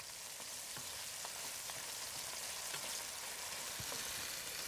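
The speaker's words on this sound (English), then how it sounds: "as they ooze their viscous juices into the pan, they're turning the oil an orangey colour" Mussels sizzle in orange-tinged oil in a pan, with tomatoes softening alongside for a pasta dish, giving a steady close frying hiss scattered with small pops and crackles throughout.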